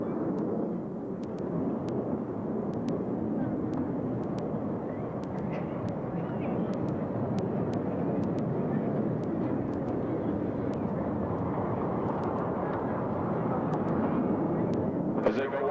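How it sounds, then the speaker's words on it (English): A jet aircraft at the 1987 Top Gun Airshow accelerates to 500 miles per hour for a half Cuban 8 reversal, a steady, broad, distant roar that holds for the whole stretch. "will now accelerate his aircraft to 500 miles per hour and execute a 1/2 Cuban 8 reversal turn back toward the flight line."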